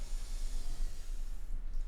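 Slow, steady inhale through the nose during a yoga class, a soft breathy hiss sustained for about two seconds at low volume with no talk over it.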